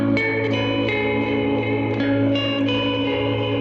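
A loop from the Slate + Ash Cycles plugin plays on its own, a steady droning texture with repeating rhythmic accents about every half second and heavy reverb and echo, with no voices.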